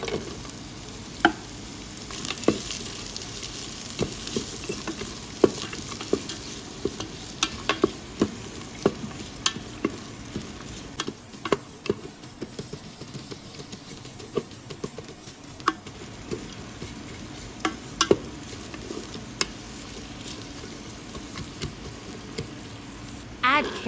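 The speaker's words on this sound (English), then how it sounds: "Stir-fry onion slices until translucent." Onion slices stir-fried in a pan until translucent, a soft crackling sizzle under frequent sharp scrapes and taps of a utensil against the pan, irregular and close throughout.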